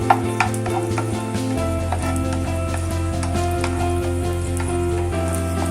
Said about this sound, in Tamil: திராட்சையும் நம்ம நல்லா வறுத்துக்கலாம்.